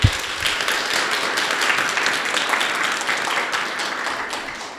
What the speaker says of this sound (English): Maybe some applause.